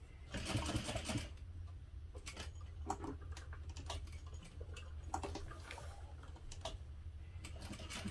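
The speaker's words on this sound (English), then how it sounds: "I stitch across this a couple of times so that it is secure." A sewing machine stitches fabric in quick bursts while sewing a hip pouch, the needle's rapid patter starting and stopping several times, close and fairly quiet, with no one talking.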